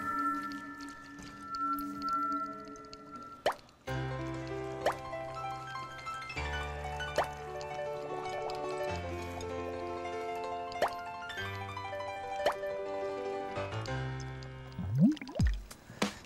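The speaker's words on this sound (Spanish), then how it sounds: "el dióxido de carbono escapa por esta manguera. Y cuando el dióxido de carbono entra en contacto con nuestra solución de agua con detergente" Carbon dioxide from dry ice bubbles through a hose into water mixed with detergent, giving a run of gurgling, watery plops and drips over soft tonal background music, with a sharp sweeping splash near the end.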